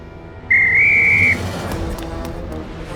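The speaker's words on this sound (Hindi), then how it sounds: "सीटी बजा के।" A single sharp whistle blast rings out loud and steady for nearly a second, standing alone over a low background hum in a comedy scene with kids.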